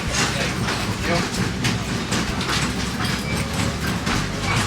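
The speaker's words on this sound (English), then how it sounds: "But this is a historic train." Historic Cape Cod Central passenger train rolling along the rails, a steady loud rumble and rattle of the cars throughout, with people talking faintly over it.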